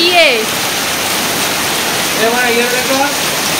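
Rainwater floods into a house and pours down the stairs in a loud, continuous rushing wash close by, while people talk over it.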